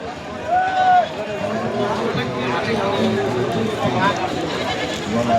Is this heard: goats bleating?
yes